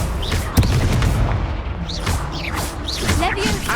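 Blasting spell explosions from Hogwarts Legacy gameplay: a sharp boom near the start, then crackling magical bursts and whooshes layered over dense battle noise and voices.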